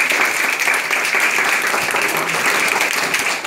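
A group at a social security week event in Sinop gives a dense, continuous round of applause, loud and close, holding steady for several seconds with no speech.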